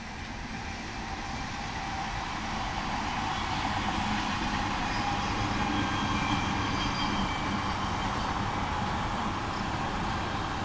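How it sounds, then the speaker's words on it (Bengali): A train rumbles past on a railway line beside flooded fields near homes, a steady, loud, continuous roar of wheels and carriages filling the whole stretch. "একটা ট্রেন আসছে।"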